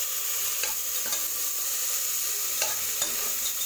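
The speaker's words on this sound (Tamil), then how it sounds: "இது நல்லா மிக்ஸ் பண்ணி தக்காளி நல்லா வதக்கி விட்டுக்கலாம்." Chopped tomatoes with salt sautéing in a pan for dal rice, a constant hissing sizzle with occasional soft taps and scrapes of a stirring spoon.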